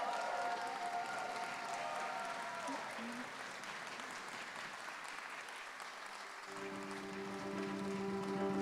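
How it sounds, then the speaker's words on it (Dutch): Applause from a theatre audience, a steady wash of clapping that fades slightly before a brief spoken voice joins near the end. "Maar hier ook daarvoor een applaus voor Marnix Mulder"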